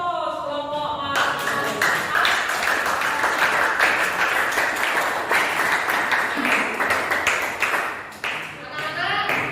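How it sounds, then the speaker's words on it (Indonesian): A classroom group of students claps for a student group, a steady burst of many hands lasting several seconds at moderate loudness, with an adult voice audible at the start. "Kita beri aplaus kelompok Mas."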